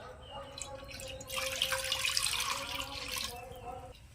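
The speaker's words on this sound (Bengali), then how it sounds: "এবার কড়াইতে দেবো জল" Water poured into a wok in a home kitchen, a brief rushing splash that swells and fades over a couple of seconds, faint and close, with no voices over it.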